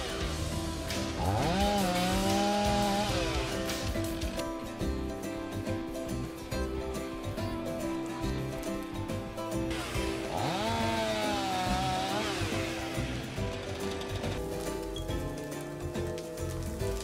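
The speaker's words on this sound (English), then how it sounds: "The worker needs to use a chainsaw with at least 70 horsepower to ensure a clean cut" A large chainsaw cuts through a tree, its engine droning loudly and steadily with two pitch swoops as it revs up under load, close by and without talk.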